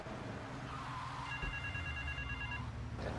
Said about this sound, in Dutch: ik heb die telefoon al, maar ik weet niet hoe je die telefoon moet opnemen